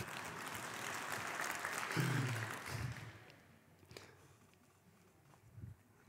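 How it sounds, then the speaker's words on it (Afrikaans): Audience at a church gathering breaking into applause, a dense wash of clapping that swells and then fades away to sparse claps and quiet room noise. "kom ons gee hom 'n lekker hande klap"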